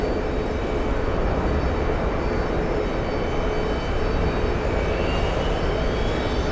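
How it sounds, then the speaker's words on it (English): A Boeing C-17 Globemaster military transport plane on final approach to an airport makes a loud, continuous engine rumble and whine that stays steady throughout, with no talking. "C-17 on final."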